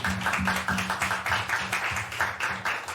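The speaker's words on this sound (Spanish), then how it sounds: "¿Y cuánto le dan un fuerte aplauso al Señor?" Church congregation clapping for God during a Spanish-language service, a steady rhythmic clap in time with a low sustained hum of music underneath.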